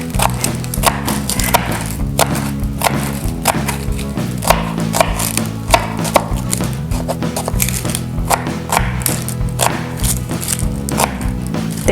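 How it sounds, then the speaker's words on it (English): An onion is chopped with a knife for chili, a rapid, steady run of crisp blade thuds against the board, close and continuous over a low background hum. "So a very easy way to chop an onion"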